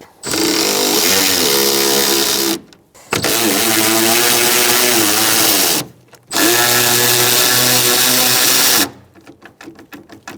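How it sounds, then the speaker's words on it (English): Loud, near bursts from a power tool with a 13mm socket spinning off the strut mount nuts on a 2000-2007 Ford Taurus 3.0L V6 rear strut, three sustained whirring runs separated by short pauses, then a few rattling taps. "We have 1, 2, 3 nuts that we're going to loosen using our 13mm socket"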